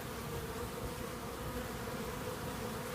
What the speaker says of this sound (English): You can hear the hum too, right?